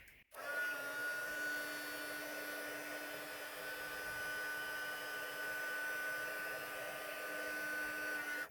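A craft heat tool blowing hot air to melt embossing powder on a card, a steady whirring fan hum with a faint high whine, close and constant from switch-on to switch-off, with no talk over it.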